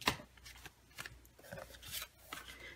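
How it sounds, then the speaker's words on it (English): Small craft snips cut through paper at a stamping and card-making table, giving a few crisp, close snipping and rustling sounds spaced irregularly, with quiet pauses between cuts. "I'm just going to take my snips"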